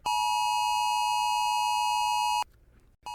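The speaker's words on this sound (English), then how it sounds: "both of their cell phones go off at the same time with what sounds like an Amber Alert" A cell phone emergency alert sounds, likely an Amber Alert, as a loud, steady electronic tone that holds for over two seconds, cuts off, then starts again briefly after a short pause.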